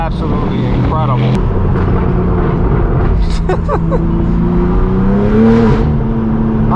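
A straight-piped BMW M4 G82 with downpipes roars steadily up close at a BMW M car meet, its loud droning exhaust rising and falling in pitch. Faint voices sit underneath.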